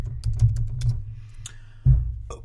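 Quick clicking keystrokes from typing on a computer keyboard, close and fairly faint, over a low steady hum, with a brief pause and a last burst of taps at the end.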